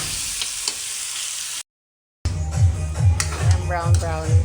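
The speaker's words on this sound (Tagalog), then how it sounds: "I-add yung karne. I-saute lang natin hanggang mag-brown." Meat sautéing in a pan for Ilonggo-style pochero, a steady frying sizzle broken by a short silent gap, then stirring scrapes and clinks with brief voices over the cooking.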